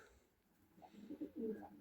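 A pigeon gives a few soft, low coos, close and faint, in a quiet room.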